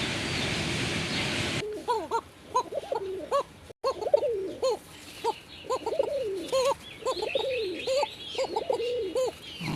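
A pair of Koka pigeons coos close by in repeated, rhythmic throaty calls over several seconds, after a brief burst of hiss at the start.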